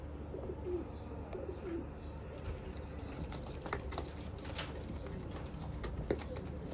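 Sialkoti Sheikhan pigeons coo softly and intermittently in a loft, faint and low under a constant hiss of ambient noise, with a few light tapping clicks.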